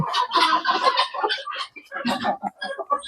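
Chickens in a poultry farm shed, some of them sick, cluck and squawk close by in busy, overlapping bursts for a few seconds.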